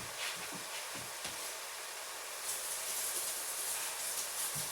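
Steady hiss of tap water running over a tablespoon in a kitchen sink while cooking, a continuous close wash of splashing noise with a few soft clinks, no voices.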